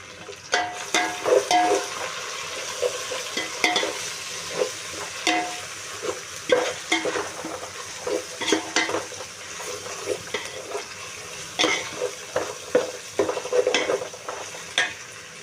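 Mint and coriander deep-frying with green chillies in oil for mutton biryani, a continuous close sizzle with frequent clattering stirs and scrapes of a ladle against the pot.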